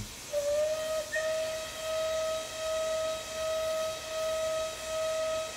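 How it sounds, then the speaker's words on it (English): A steady, sustained steam locomotive whistle from a Merchant Navy Class engine in Train Simulator 2020 sounds in repeated even pulses with brief dips and slight looping, loud and close, over a soft hiss. "that is a space bar whistle, but I can hear a slight looping in that whistle there"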